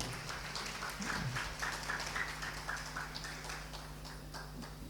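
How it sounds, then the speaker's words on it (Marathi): An audience claps at a Shiv Mahapuran religious discourse, a dense, steady applause that stays fairly faint and distant for about five seconds. "तुम्ही त्यांच्यासाठी परत एकदा टाळ्या वाजवा"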